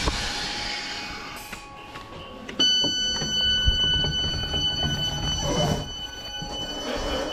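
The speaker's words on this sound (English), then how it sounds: "I'm going to get the next 320-318 to back to Glasgow Central low level" A Class 320 electric multiple unit at a Glasgow station on the Strathclyde network, with a steady rail hum, high tonal whine from the train's equipment and some clanking, sustained at close range with no talking.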